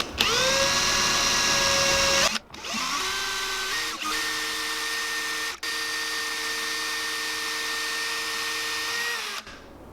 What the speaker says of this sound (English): I can come back in with a ball Dremel bit and widen that out